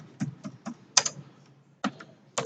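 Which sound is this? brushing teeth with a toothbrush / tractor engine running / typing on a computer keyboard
typing on a computer keyboard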